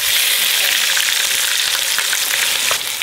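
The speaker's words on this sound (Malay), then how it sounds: "Kita goreng dikit buat sambal ya." Steady, dense sizzle of ingredients frying in a pan for sambal, loud and continuous with no talk, easing slightly near the end.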